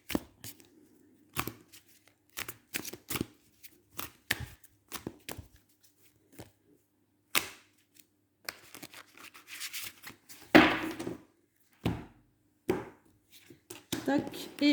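Oracle cards being shuffled and handled in a quiet room, a series of short papery riffles and flicks in uneven bursts, close and fairly soft, with no talking.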